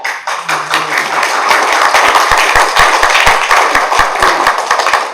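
Audience at a school board meeting applauding honorees, a dense spread of claps with sharp hand strikes standing out, steady and fairly loud throughout, a brief low hum near the start.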